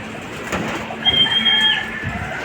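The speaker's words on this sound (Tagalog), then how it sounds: "Yung mga kalapatids." Pigeons cooing close by in soft, low repeated calls over a steady background hum, with a thin high whistle-like tone briefly showing partway through.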